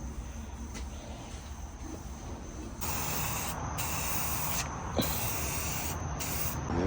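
Spray can applying a coat of paint, with bursts of steady hiss close by that start and stop several times over a faint background rumble.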